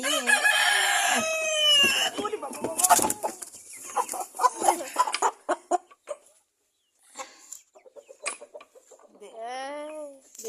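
Chickens kept as hobby birds, including large broiler hens, cluck and crow loudly up close, with a rooster's crow opening the sequence and another drawn-out call near the end, mixed with scattered clucks and a voice talking.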